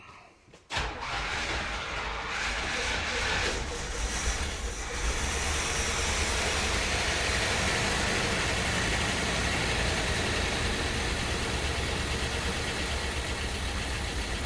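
A car engine that had sat parked for 14 years cranks briefly and then settles into a steady, loud idle that drones on without a break.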